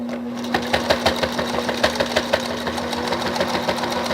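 Sewing machine stitching fabric for pajama pants, a steady rapid mechanical clatter with a constant motor hum, close and loud, running alone without speech.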